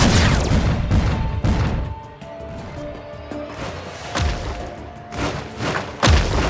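A string of heavy grenade explosions in the Iron Marines video game, several booming thuds spaced a second or two apart amid battle noise and a faint musical tone, loud and close, no talk.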